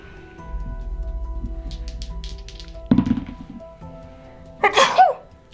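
A single loud, sharp sneeze near the end, after a low hum and a dull thump, with no talking.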